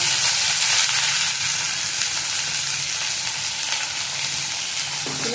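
Cut potatoes and carrots frying in a pan with cumin and green chilli, a loud continuous sizzling hiss with a brief softer dip, no voices over it.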